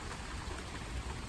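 Steady rain pours down at an outdoor estate sale, a dense, even hiss of drops hitting surfaces with no pauses and no voices.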